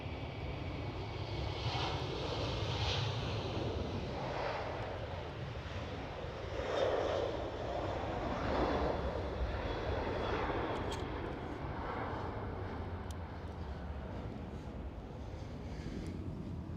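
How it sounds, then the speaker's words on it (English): A Delta Airlines Airbus A330 jet airliner at Amsterdam Schiphol makes a faint, distant, broad roar that swells and eases gently, with soft wind noise over it. "Delta Airlines A330."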